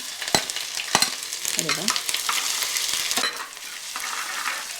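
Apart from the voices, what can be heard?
ginger and curry leaves sizzling in hot oil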